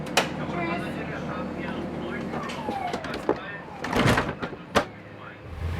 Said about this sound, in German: Tür geht zu.